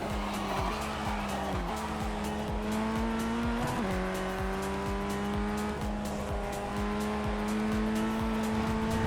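Race car tires squeal loudly through a big spin in the iRacing sim, engine tones sweeping and wavering while a continuous rough skid runs under them, with no voices.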